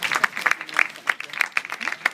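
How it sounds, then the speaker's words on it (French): An audience at a municipal festival event claps for a local councillor, with sparse, uneven handclaps in separate bursts at moderate loudness and faint murmuring underneath. "que je vous demande d'applaudir également"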